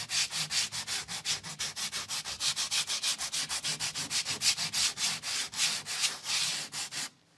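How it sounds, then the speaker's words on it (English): Dried PU expanding foam on a wall being sanded down by hand, with steady repeated rubbing strokes in an even back-and-forth rhythm, close and continuous until it stops abruptly near the end. "Then sand it down."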